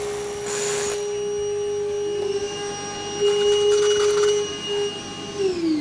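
A vacuum draws dust out of a freshly drilled hole in a concrete floor, giving a steady tonal whine with loud rough sucking bursts partway through before the motor winds down at the end.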